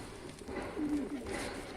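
An Adana pigeon gives a soft, low coo up close, a brief throaty purr in the middle of the moment, while someone talks over it.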